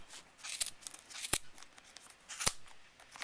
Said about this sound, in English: go ahead and cut again with a sharp pair of scissors